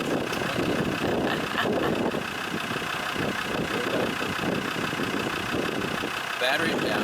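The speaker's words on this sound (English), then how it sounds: "So I've got to have the engine running, so that charges the battery" A Land Rover engine idles steadily at a tent camp in Africa, a constant low mechanical drone running underneath a person talking nearby.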